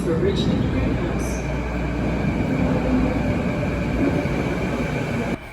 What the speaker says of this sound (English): Okay, so we're on the train now.